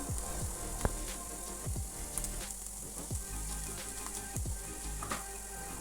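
Chopped green chilli sizzles and crackles steadily in a hot frying pan, a continuous close frying hiss with small pops and occasional clinks, during preparation of a rava snack.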